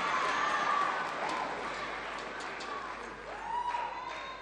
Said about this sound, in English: It's interesting listening to the crowd.